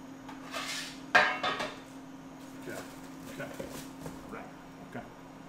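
Two small pans clank and clatter in a home kitchen, with a sharp metallic knock and several lighter scrapes and taps set against a steady background hum and some quiet talk.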